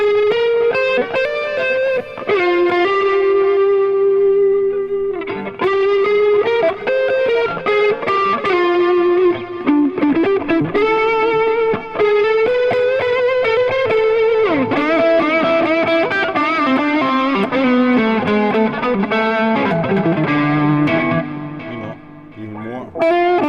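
An electric guitar plays a sustained, singing lead tone through an Atomic AmpliFire with a tube screamer boost and a long echo. The notes flow loud and continuous, with trailing repeats behind them.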